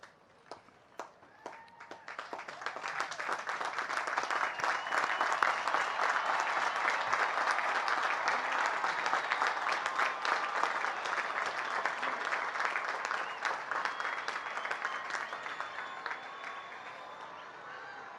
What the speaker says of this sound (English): give a big round of applause to your families because they're the reason you're here right now